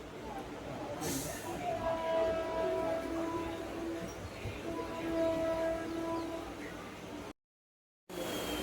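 MEMU passenger train pulling out of Needur railway station, a steady rumble of wheels and carriages heard from on board, with a sharp noise near the start and a horn-like tone sounding twice, before a brief dropout.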